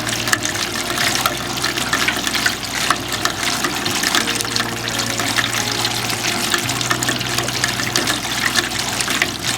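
Rainwater runoff from house catchment trickles and splashes steadily into wood chips, a close, even flow with a faint low hum underneath.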